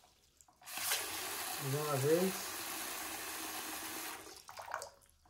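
Water runs from a Deca washbasin faucet in a steady, moderately loud rush that starts abruptly and cuts off after a few seconds, with a short spoken remark during the flow.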